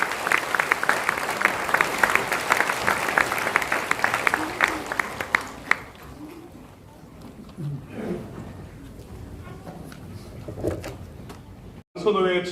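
Applause from a church congregation at an ordination and retirement ceremony, dense clapping for about five seconds that thins into scattered claps and murmuring, with a brief voice at the end.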